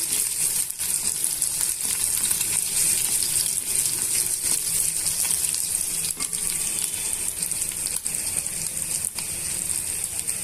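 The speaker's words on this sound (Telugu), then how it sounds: "ఎండు మిర్చి తర్వాత ఎల్లుల్లిపాయ రబ్బల్ని వేసుకొని వేసుకోవాలి ఇవన్నీ కూడా దూరగా వేయించేసుకోవాలి" Dried red chillies and garlic fry in oil in a pan for a dry brinjal stir-fry, giving a steady, close sizzle that holds at an even level throughout.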